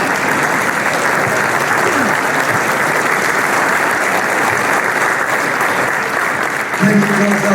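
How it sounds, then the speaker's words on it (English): A large crowd gives sustained, loud applause for Prime Minister Justin Trudeau, a dense even wash of clapping that holds steady throughout, with a voice starting to speak near the end. "Please get up and just give him a round of applause."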